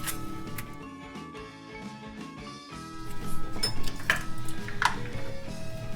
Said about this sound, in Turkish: İçine bolca buz atıyoruz.